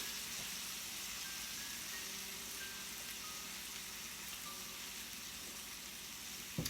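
Steady, soft sizzling of butter in a hot medium-sized frying pan, a constant hiss with faint crackles throughout and a brief clatter at the very end.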